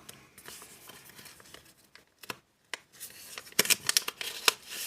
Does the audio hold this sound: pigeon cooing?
no